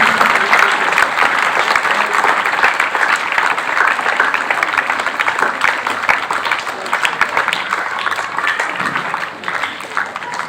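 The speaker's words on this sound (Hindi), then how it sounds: "जोरदार तालियां हो जाए।" Loud, sustained applause from a crowd at a school meet, many hands clapping in a thick continuous wash that holds strong throughout and eases slightly near the end.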